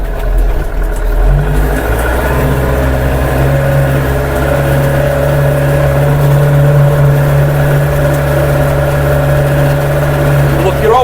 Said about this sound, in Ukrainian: Двигун собі спокійно тяне.